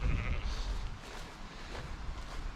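Sheep bleating in a farm field where the flock is heavy with wool and ready for shearing, a few close calls over steady outdoor background noise.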